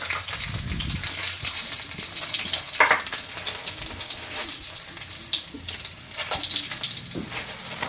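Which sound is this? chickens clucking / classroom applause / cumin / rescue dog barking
cumin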